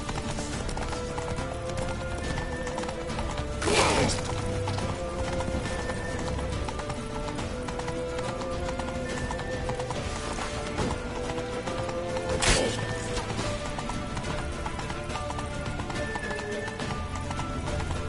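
Horse hooves clip-clop in a steady run beneath a dense, busy soundscape in The Witcher 3: The Wild Hunt, with a couple of sharp louder hits cutting through.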